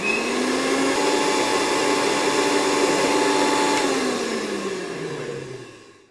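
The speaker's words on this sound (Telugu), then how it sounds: "ఇప్పుడు మూత పెట్టేసి దీన్ని మిక్సీ చేసుకోవాలి" A kitchen mixer grinder whirs loudly and steadily as it grinds roasted curry spice powder with salt, its motor pitch sinking and fading as it spins down at the end.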